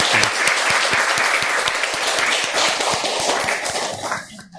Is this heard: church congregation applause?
yes